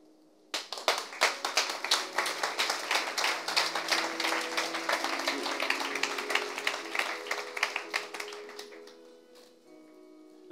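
A church congregation at an ICC Cotonou service in Benin bursts into loud, sustained applause, dense overlapping hand claps that swell and hold for several seconds before tapering off at the end.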